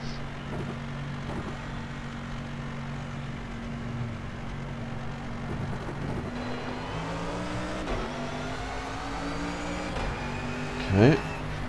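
A Mercedes GT3 race car engine in a video game hums steadily with rising and falling revs like gear changes, fairly quiet and continuous, with a brief louder whine near the end.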